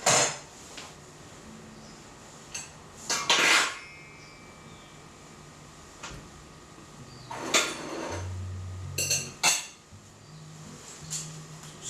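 A giant milk tart is sliced with a knife and lifted from its pan, giving scattered clinks, scrapes and knocks of metal against the dish, with quiet gaps between the sharper hits.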